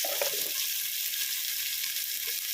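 Vegetables for paneer fried rice sizzle steadily in a hot pan, a close, continuous crackling hiss with no talking.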